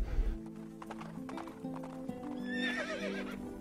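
Wild horses in Bosnia and Herzegovina heard close by, hooves clopping at the start, then a long whinnying neigh rising and wavering near the end, with other horse sounds and a low background hum throughout.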